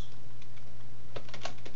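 Typing on a computer keyboard while editing a Windows system setting to switch the shell to Program Manager, heard as a few scattered, fairly close key clicks with a short cluster near the end, over a steady low hum.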